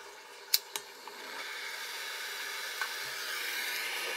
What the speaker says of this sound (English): So, I'm gonna get the torch here heated up. I'm just gonna use a normal propane torch.